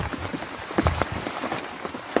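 Rain falls on foliage and surfaces outdoors, a steady close patter with scattered louder drips and splats, continuous and unaccompanied by speech.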